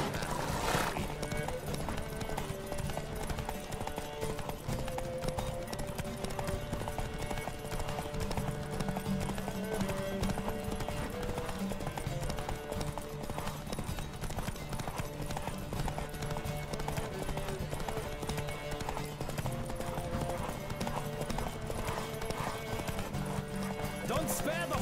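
Steady clip-clop of horse hooves at a gallop in a video game, with occasional whinnies, layered over continuous music and shouted voices throughout.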